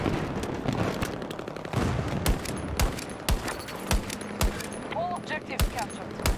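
An LMG machine gun in Battlefield 2042 fires in short bursts and single sharp cracks, loud and close, mixed with distant battlefield gunfire and explosions, with a player's voice briefly audible.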